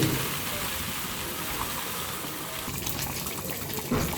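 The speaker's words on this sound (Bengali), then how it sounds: "এখন আমি চিকেনের মধ্যে ঢেলে দিচ্ছি" Fried onions, browned deep red, being poured over chicken for a yogurt chicken curry; a steady wet gushing, sloshing pour runs for several seconds, close and fairly loud, with no talking.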